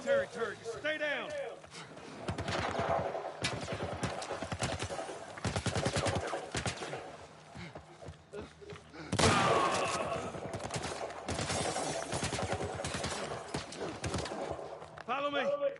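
Military turret gunfire in The Last of Us Part II comes as dense, rapid bursts with pauses in between, fairly loud and mixed under frequent talking voices.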